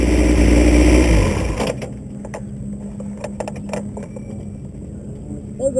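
Vintage race cars on track at a VARA race at Willows: a loud, close engine roar fills the first second and a half, then drops to a low, distant drone broken by scattered clicks and rattles.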